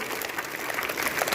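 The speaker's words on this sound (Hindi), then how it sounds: "तो एक बार जोरदार ताली लगा दीजिए इनके लिए।" Applause for the members of a school club, children and class monitors of the student parliament, Meena Manch and Eco Club, in a school gathering: a steady, dense patter of many hands clapping throughout.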